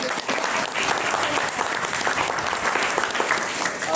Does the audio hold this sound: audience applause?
yes